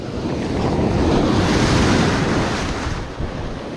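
Waves wash continuously onto a shallow beach during surf fishing for snook, corvina and snapper, a loud, broad roar of surf mixed with wind buffeting the microphone, with no talk.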